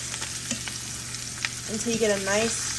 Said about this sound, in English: So you wanna let it sit for about a minute until it sears like this